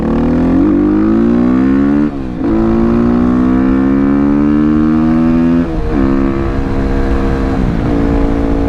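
A supermoto motorcycle ridden at speed, its engine droning loudly and steadily up close, with rising pitch through the gears and brief dips at shifts.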